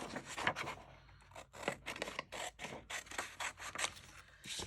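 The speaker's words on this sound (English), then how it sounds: "Since it's not that big, I'm going to attempt to cut straight." Scissors cutting through a small goodie box, a steady series of close, crisp snips and crunching cardboard cuts in a regular rhythm.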